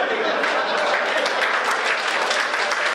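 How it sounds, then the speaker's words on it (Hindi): Dense audience applause from a crowd at a comedy satire show, continuous and steady for the whole stretch before cutting off abruptly at the end. "ताली वही लोग बजा रहे जो मैं बारात आए थे।"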